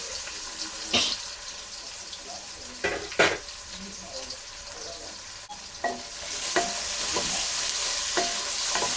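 Chopped onions and a few green chillies fry in a pan while being stirred, a steady sizzle broken by several sharp scraping strokes of the spatula, close and fairly loud with no talk.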